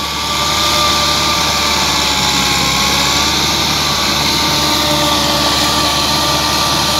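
A 2007 Massey Ferguson 385 tractor on Goodyear tyres runs with a rotavator attached, giving a loud, steady engine drone that holds without a break from start to finish.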